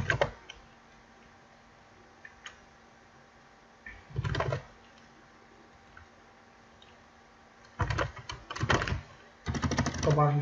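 Numbers are typed on a computer keyboard while working in Photoshop: soft close clicking keystrokes in short bursts separated by quiet gaps, with no talk.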